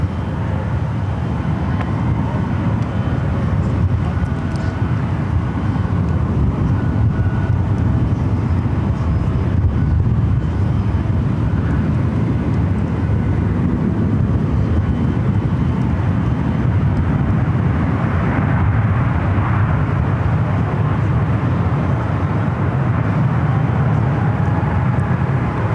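An American Airlines jet landing on runway 28 Right at San Francisco International Airport: a steady, loud, broadband roar of engine and wind noise that holds throughout, without talking.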